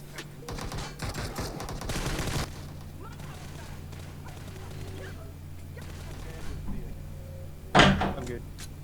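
Gunfire in a PUBG-style battle royale game with an MK14 rifle, rapid bursts of shots early on, then quieter game sounds and one sharp loud report near the end, with a voice talking.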